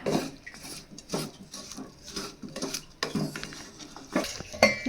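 A spoon stirs cooked pumpkin with jaggery and grated coconut in a pot, giving repeated scraping, clinking strokes against the metal in an uneven rhythm, close and fairly loud, with no talking.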